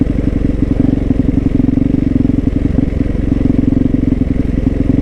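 Motorcycle riding along a rough, dangerous road, engine droning loud and steady with constant rattling and clatter from the bumpy surface, close and continuous throughout.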